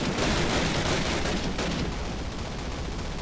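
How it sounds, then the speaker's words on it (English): Rapid continuous anti-aircraft gunfire from a Flakpanzer in a Call of Duty battle, a dense loud fusillade of overlapping bursts filling the whole stretch, with no talking. "you can hear the Flakpanzer out in the, you know, field over there"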